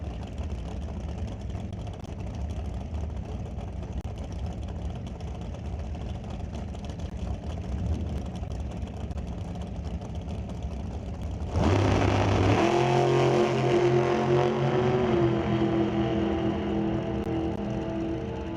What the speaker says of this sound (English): Fantastic drag race there.